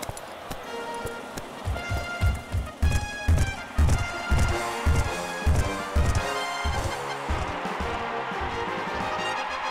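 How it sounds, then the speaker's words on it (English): Hooves thud in quick rhythmic bursts as racehorses run on a racetrack, then a bright, ringing musical flourish swells and fills the rest of the clip. "The horses are on the track."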